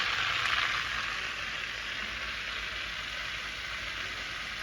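Butter melts with a little oil in a home kitchen pan, giving a steady close sizzle and crackle that runs unbroken without any talk.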